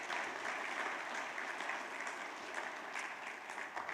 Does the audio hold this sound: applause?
yes